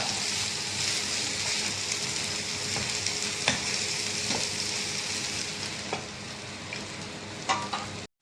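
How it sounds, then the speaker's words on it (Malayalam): Shrimp for prawn thoran fry in a pan with a continuous close sizzle, broken by a few sharp clicks and scrapes of stirring, the hiss easing slightly near the end. "കുറച്ച് നല്ലോണം പൊരിയട്ടെ പൊരിഞ്ഞാൽ നല്ല ടേസ്റ്റാണ്"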